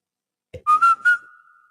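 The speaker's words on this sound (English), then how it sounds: "Who just whistled?" Someone whistles a short, clear, high tune of three quick notes sliding into one sustained tone, heard close and alone after a brief knock, during a spirit communication session.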